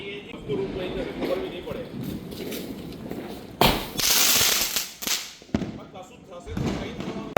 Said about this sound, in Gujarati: તો આ મારો ભાઈ પાર્થિવ અને ચીકુ એટલે કે કેયાન એ 2 જણ કંઈક 7 શોટ એવું કંઈક કરીને છે એ ફોડી રહ્યા છે.